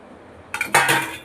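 A metal cake pan turned over onto a plate in a home kitchen, heard as a couple of sharp clinks and a scraping metallic clatter, close and brief after a quiet start.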